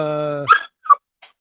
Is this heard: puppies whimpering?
yes